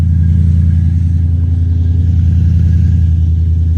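A swapped Ford Coyote V8 with BBK long tube headers idles steadily, a loud, deep, even rumble close by with no revving or talk.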